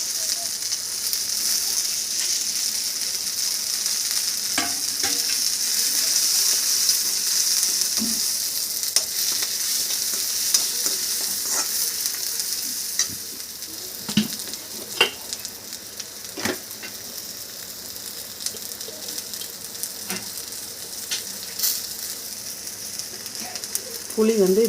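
Finely chopped coconut frying in a pan for beetroot chutney, a steady bright sizzle throughout with scattered crackles and small clicks of stirring, close and fairly loud.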